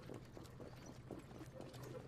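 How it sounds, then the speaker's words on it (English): Harness racing horses walk toward the track, hooves clip-clopping in a steady, moderately close rhythm over continuous crowd and ambient noise, with some background voices. "Horses making their way to the track"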